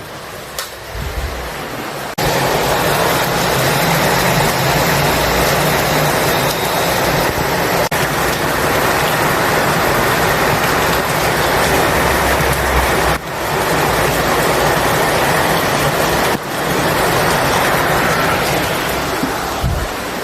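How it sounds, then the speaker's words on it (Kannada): A loud, continuous roar of heavy rain in Bengaluru fills the space, a dense broadband rush that holds steady with a few brief breaks. "ಮಳೆ ಜೋರಾಗಿ ಬರ್ತಾ ಇದೆ ಆಲ್ರೆಡಿ."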